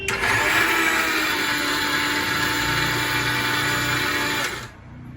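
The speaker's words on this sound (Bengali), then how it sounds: "চালগুলোকে বেটে নিচ্ছি" Electric grinder churning soaked rice meant for making sweets, a steady loud whirring grind that runs continuously for several seconds, then cuts off and drops to a quiet hum near the end.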